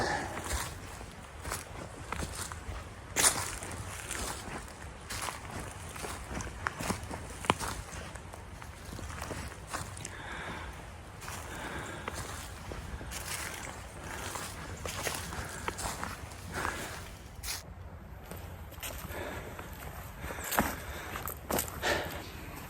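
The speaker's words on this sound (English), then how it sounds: "you might have been hearing what sounded like footsteps. It's coming from off to my left inside this brush and this undergrowth" Footsteps rustle through brush and undergrowth, a run of irregular crunching and snapping steps of varying loudness, fairly close, with faint talk and wind under them.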